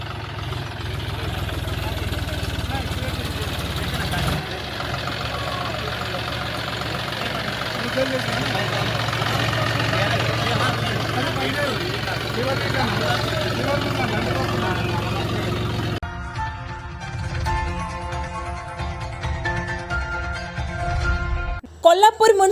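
A tractor driven through a village with farmers runs its engine at a steady, continuous drone for over twenty seconds, the tone shifting briefly near the end.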